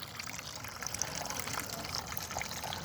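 A garden gnome water fountain flows steadily, its water trickling and splashing into a pan below in a continuous close, soft patter with no talking.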